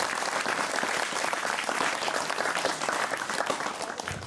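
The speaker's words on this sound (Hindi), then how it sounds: "एक बार मंच के सम्मान में आप जोरदार ताली बजा दें।" An audience at a school poetry gathering (kavi sammelan) at a government senior secondary school applauds loudly, a dense continuous wash of clapping lasting several seconds without pause.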